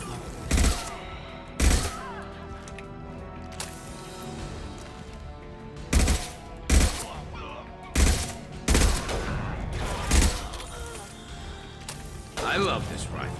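Rifle gunfire in the video game Mass Effect 2: sharp, loud single shots spaced a second or two apart, about eight in all, over a continuous game soundscape, with a voice speaking in places.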